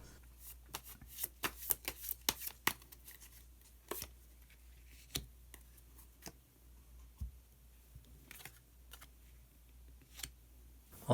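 Tarot cards are shuffled and drawn close by. Quick riffles and soft flicks come in bursts, with sharper card snaps scattered through an otherwise quiet room.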